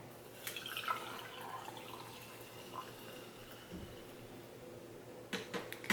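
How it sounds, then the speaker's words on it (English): Hot water is poured over loose tea in a cup, a soft, steady trickling wash with faint splashy taps and a few sharper clinks near the end, no talk. "and top it with our hot water"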